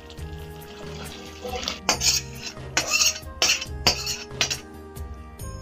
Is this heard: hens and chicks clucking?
no